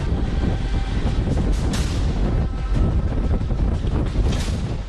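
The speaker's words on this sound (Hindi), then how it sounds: "समंदर किनारे चल रही हवाओं का शोर सुनिए।" Strong cyclone winds roar steadily along the seashore during Cyclone Biparjoy, a loud continuous rushing gust with buffeting microphone noise throughout and no voices.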